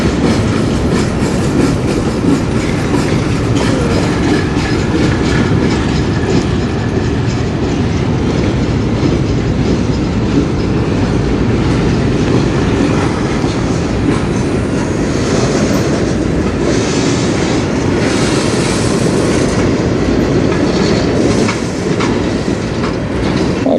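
Freight train with tank cars rolling past at close range, loud continuous wheel rumble and rhythmic clickety-clack over the rails with occasional squeal, no voices.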